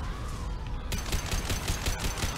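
Gunfire in the shooter Mass Effect 2, starting after a quieter opening and then breaking into a rapid, loud stream of shots lasting through the rest.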